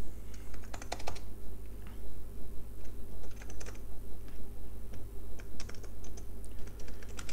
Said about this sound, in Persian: تایپ تایپ تایپ تایپ تایپ تایپ تایپ تایپ تایپ